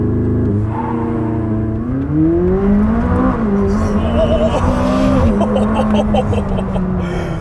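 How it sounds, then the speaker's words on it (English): A rear-wheel-drive McLaren 600LT supercar launches under launch control, its engine note climbing loudly through the revs with a brief dip at a shift before pulling hard again, with faint tire noise. "That's a good launch for a rear-wheel drive car."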